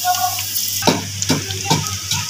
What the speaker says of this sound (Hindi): तो गाइस यहाँ पे प्याज अभी ब्राउन हो रहा है